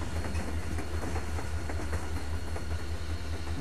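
A moving train in The Walking Dead video game, with a steady low engine drone and faint rhythmic rail clatter, continuous and close with no voices.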